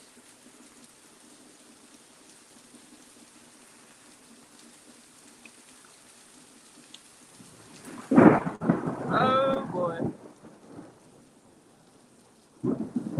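Close thunder from a cloud-to-ground lightning strike during a spring rainstorm: after quiet, steady rain, a sudden sharp crack gives way to a heavy rolling rumble, and another loud burst comes near the end. A voice briefly exclaims.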